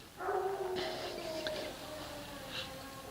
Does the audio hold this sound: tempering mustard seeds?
no